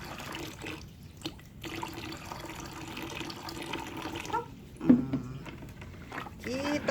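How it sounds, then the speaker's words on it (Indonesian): Water is poured into a nutrient mix to bring it up to 1000 ml, with splashing and trickling pours in bursts, stronger toward the end, against faint background sound and muffled voices. "Kita tambahkan air lagi sampai dengan ukuran"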